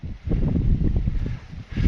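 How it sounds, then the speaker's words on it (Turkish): Steady roaring wind buffets the microphone with low rumbling gusts at a carp fishing campsite, continuous and loud throughout, easing briefly before rising again. "Baya şiddetli rüzgar var."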